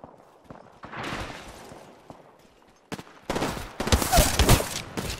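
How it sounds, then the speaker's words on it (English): Apex Legends gunfire: a sparse few faint shots and footstep-like taps at first, then loud rapid bursts of automatic fire clustering toward the end, with no talking. "They're shooting at me."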